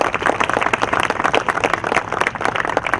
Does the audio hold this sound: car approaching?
no